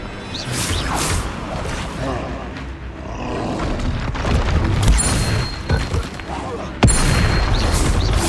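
Confringo blast spells go off in Hogwarts Legacy, a series of booming whooshing explosions over a roaring battle din, with a sharp loud burst near the end and voices mixed in.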